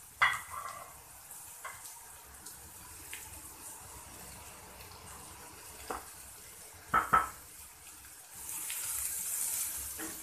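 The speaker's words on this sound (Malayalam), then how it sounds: "ഒന്ന് വഴറ്റിയെടുക്കാം." Onions sautéing with salt in a pan, a soft low sizzle with scattered stirring scrapes and a couple of clinks, rising to a steadier hiss toward the end.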